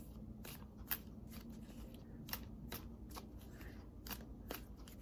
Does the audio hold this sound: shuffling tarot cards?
yes